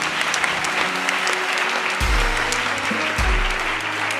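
Congregation applauding Jesus at a French-language church service, a loud sustained round of clapping with low organ or keyboard notes sounding beneath it.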